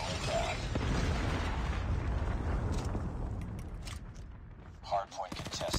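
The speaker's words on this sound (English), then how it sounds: "Friendly predator missile inbound." Predator missile explosions and gunfire in a Call of Duty Mobile hardpoint match, a dense rumbling blast that rolls and fades, followed by sharp crackling shots and pops near the end.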